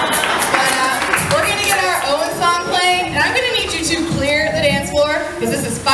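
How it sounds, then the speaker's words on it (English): Audience applause at a marine park show rises as a dense, steady wash of clapping and crowd noise, loud and close throughout, with voices mixed in. "we can give you a little round of applause for that."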